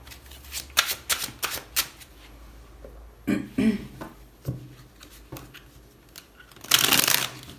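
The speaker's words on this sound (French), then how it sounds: "Allez, on y va, on continue, on pose 4 cartes" Tarot cards dealt one by one onto a table, a run of soft, quick slaps and slides in uneven bursts, close and fairly quiet, ending in a longer rustling flurry.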